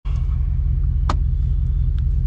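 Truck engine idling steadily with a deep, even rumble while its transmission warms up after installation, a brief metallic click heard partway through.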